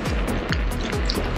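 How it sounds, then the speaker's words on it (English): Rainwater splattering against the shell of a vehicle while riding, a close, busy patter of wet drips and splashes coming in quick irregular bursts. "Water splattering the shell."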